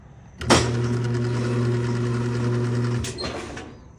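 A Kenmore/Whirlpool top-load washer starts humming loudly when its lid switch is pressed down, a steady motor drone running for about two and a half seconds before cutting off with a click.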